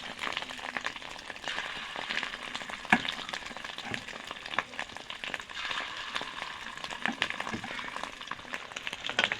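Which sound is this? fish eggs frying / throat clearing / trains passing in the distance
fish eggs frying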